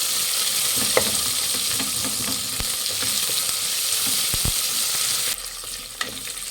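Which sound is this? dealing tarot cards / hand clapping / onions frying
onions frying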